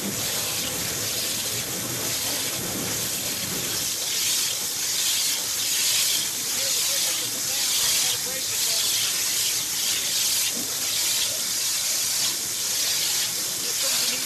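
A KMT waterjet cutting head sends out a tight stream of water at about 55,000 psi, making a loud, continuous, broadband hiss. A voice speaks briefly at the start.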